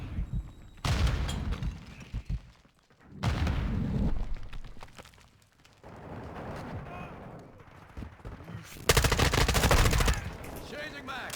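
Gunfire bursts in the PC beta of Call of Duty Modern Warfare 2, loud and close, coming in three dense volleys with quieter game noise and brief speech between them.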